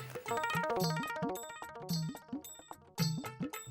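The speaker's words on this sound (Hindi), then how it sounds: "घंटी बज रही है।" A phone rings with a bright, jingling electronic melody, repeating in short quiet bursts with brief pauses between them.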